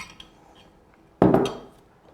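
A pan handled in a quiet kitchen before cooking Korean corn cheese gives one short, close metallic clatter after a near-silent stretch, then fades out.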